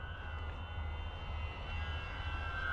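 An FMS Pilatus PC-21 RC model airplane flies overhead with its electric motor giving a steady, faint whine and hum, fairly distant, with no voices.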